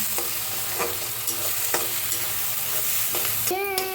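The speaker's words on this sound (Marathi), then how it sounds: "आता छान मिक्स करून भाजून घेऊया आपण।" Onion masala paste roasts in a pan with a steady sizzle while a spoon stirs it, scraping and clicking against the metal every half second or so, close and loud.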